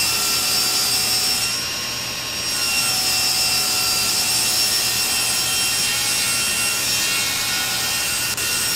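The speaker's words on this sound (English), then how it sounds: "So first I run my factory edge against the fence and make one parallel trimming cut." A table saw ripping a sheet of wood along the fence to trim one factory edge, a steady broadband whine and cutting hiss running nearly the whole time, loud and close with no talk.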